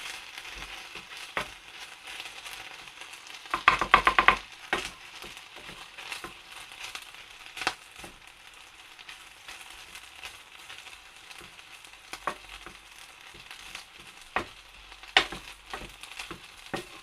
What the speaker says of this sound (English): So swirl it around a bit, get the lentils coated.